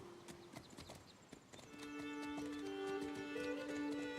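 Horse hooves clip-clop at a steady trot in a fantasy video game, Legends of the Round Table, followed by a whinny near the end, with bright tonal game music swelling underneath.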